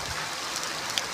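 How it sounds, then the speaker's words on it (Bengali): Rain falls steadily in a village, a soft, even hiss of drops with a few sharper patters, fairly faint and with no voices. "বৃষ্টি হইতেছে"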